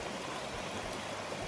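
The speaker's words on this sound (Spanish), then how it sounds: "Mirad el río, una auténtica pasada." A river rushing through a scenic gorge at San Facundo, a dense, steady roar of flowing water with a constant splashing hiss, close and continuous, no voices.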